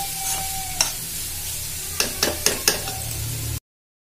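Grated beetroot frying in a pan for a beetroot and moong dal curry, with a steady low sizzle and several sharp clicks and scrapes as a utensil stirs it, close and without talk.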